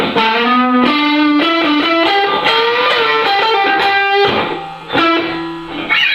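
An electric guitar, homemade, plays a sequence of sustained notes and chords with a washy, echoing reverb tail, loud and up close.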